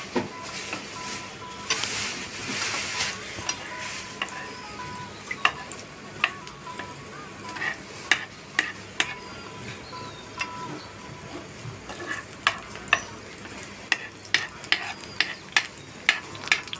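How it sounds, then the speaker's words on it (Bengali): Dough-coated eggs fry in hot oil in a pan for Noakhali-style egg pantua pitha, with a low, steady sizzle broken by sharp clicks and pops that come more often toward the end. "প্যানের মধ্যে যে গরমকৃত তেল রয়েছে সের মধ্যে দিয়ে ভেজে নিতে হবে"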